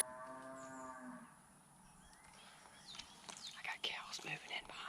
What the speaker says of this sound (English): Cows moving in behind me.